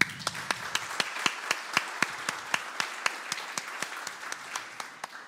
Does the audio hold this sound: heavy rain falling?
no